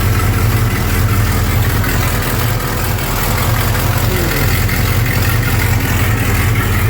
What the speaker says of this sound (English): every time I start this, I realise how much I want to fix that exhaust leak on the other side.